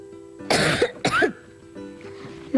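A person coughs in a cough syrup advertisement: two sharp, close coughs in quick succession, then a faint throat-clearing rasp under a soft background tone.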